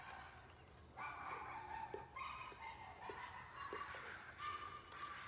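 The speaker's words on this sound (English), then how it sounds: "the dogs just bark their freaking heads off" Dogs next door bark in short, repeated yips and woofs, faint and distant behind a steady background hiss, the outbursts coming in irregular clusters throughout.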